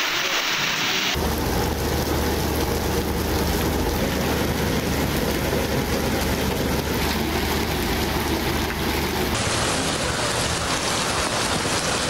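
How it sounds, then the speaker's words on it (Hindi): Heavy morning rain pours steadily and densely in a Punjab city such as Lahore, with deep rolling thunder underneath; no voices. "लाहौर समेत पंजाब के मुख्तलिफ शहरों में सुबह सवेरे तेज़ बारिश।"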